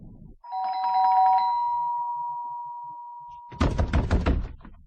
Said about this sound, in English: I want you to ring the front doorbell.